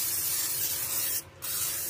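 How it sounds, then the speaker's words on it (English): Cooking spray hisses steadily from a can onto a baking pan for peach cobbler, a close continuous spray with a short pause before it resumes. "we are going to take our cooking spray and we are going to spray our pan"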